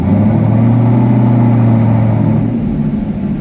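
A 2020 Chevrolet Camaro ZL1 with an 800hp package runs a dyno pull: a loud, close engine roar holds a rising, sustained rev, then drops off abruptly near the end.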